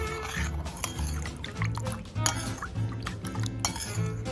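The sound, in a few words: mixing sauce of water, sugar, oyster sauce, cornstarch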